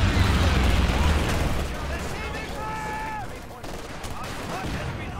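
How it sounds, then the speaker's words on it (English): Strafing-run gunfire in the Company of Heroes 2 strategy game: dense rattling bursts and rumbling blasts fill the first seconds, then ease off beneath a whining tone and scattered further battle noise. "Here comes another strafe."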